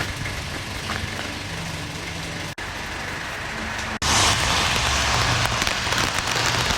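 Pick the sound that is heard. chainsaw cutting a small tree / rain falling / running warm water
rain falling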